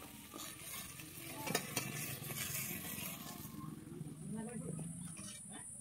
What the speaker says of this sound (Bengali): আমি ঢ্যাঁড়সগুলোকে এইভাবে ভেজে নেব